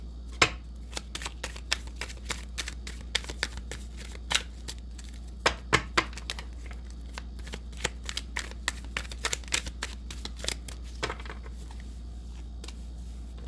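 Tarot cards shuffled in close, dense bursts of crisp riffling and tapping over a low steady hum, with no voices.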